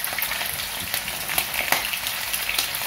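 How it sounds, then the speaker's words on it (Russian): Large home-style meat cutlets fry in a pan with a loud, dense, continuous sizzle and crackle, close and steady, with occasional sharper pops and no talking. "И таким образом мы их сейчас будем обжаривать"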